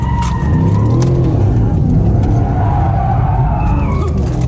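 A Porsche 911 GT3 RS drifting near St. Tropez, its tires skidding and squealing over a steady, loud engine roar that runs through the whole stretch, close by.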